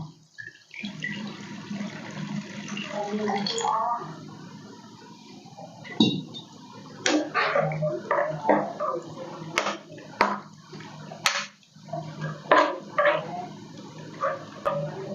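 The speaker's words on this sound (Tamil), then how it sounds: "ஒரு மூணு டம்ளர் அளவு தண்ணி ஊற்றிக்கிறோம்" Water poured from a tumbler into a pot of drumstick leaf (moringa) soup, a steady splashing pour with clattering kitchen sounds and brief knocks from the vessels, close by.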